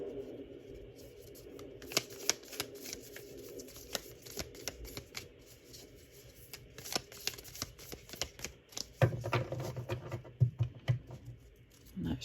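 Tarot and crystal cards being shuffled by hand, close and soft, with repeated riffling bursts and light slaps of the deck, plus some handling rustle toward the end.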